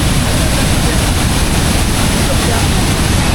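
Meenmutty waterfall in Wayanad, Kerala, pours down the mountainside in a steady, dense roar of rushing water. The sound is loud and continuous, with no pauses and no distinct voices over it.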